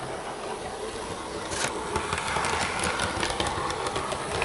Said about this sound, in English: leave the locomotive running before we get it hitched up to a train.